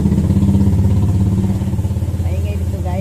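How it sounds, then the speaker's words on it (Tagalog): Motorcycles and tricycles passing on a rainy street, a loud, close engine drone with a pulsing rumble throughout and a voice speaking over it. "Maingay dito, guys. Ayan, daanan nga ito ng mga sasakyan. Motor, tricycle."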